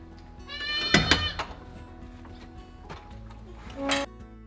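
Goats bleat on a farm pen where a mother goat has just given birth to triplets: a loud, wavering bleat about a second in and another near the end, close by over a quiet background.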